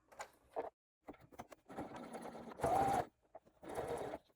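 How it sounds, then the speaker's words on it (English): A sewing machine stitches a boxy bag's lining seam in short close-up bursts of mechanical whirring and clicking, stopping and restarting several times with brief silences between runs. "And then sew again at 3/8 of an inch."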